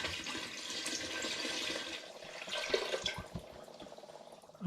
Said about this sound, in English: I'm going to add to that 5 litres of spring water